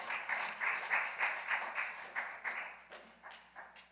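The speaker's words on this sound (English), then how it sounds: "Clap it up." Scattered audience applause at a youth huddle event, a modest burst of clapping with soft pulses that fades gradually, moderately distant and without talk.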